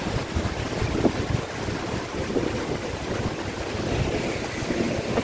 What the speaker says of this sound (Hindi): अच्छी हवा चलती रहती है